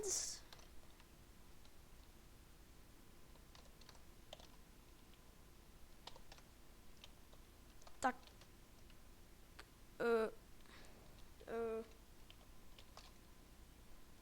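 Quiet, scattered typing and clicking on a computer keyboard into a chat comes with a few louder knocks and bumps along the way, in an otherwise quiet room.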